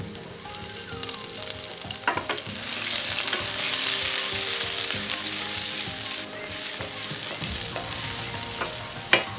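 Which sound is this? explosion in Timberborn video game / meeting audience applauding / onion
onion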